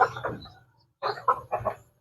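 Rhode Island Red and native chickens cluck close by in short, choppy bursts, a pause, then several more quick clucks in a row.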